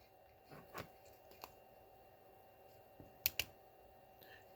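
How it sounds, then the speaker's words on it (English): Small buttons on an Arduino sensor tester pressed by hand, a few faint, sharp plastic clicks spaced irregularly in a quiet room, with a low electronic hum underneath. "Kind of hard to press the buttons nicely."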